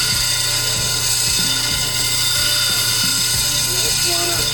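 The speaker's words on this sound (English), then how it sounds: "I'm going to do a slight dome for the first time on this 100 grit textured wheel" A Kingsley North Texture X electroplated diamond grinding wheel, 100 grit, doming a stone: a loud, steady high-pitched machine whine with a low motor hum and faint periodic ticking underneath.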